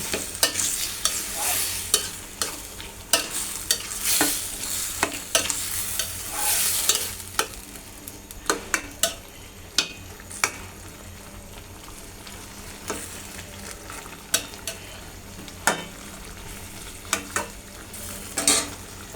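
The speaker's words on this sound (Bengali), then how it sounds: "এভাবে লাউটা কষা দিন" Bottle gourd cooking down with hilsa fish heads sizzles steadily in a pan, broken by frequent sharp scrapes and clacks of a spatula being stirred through it, close and fairly loud.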